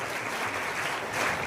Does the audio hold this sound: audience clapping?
yes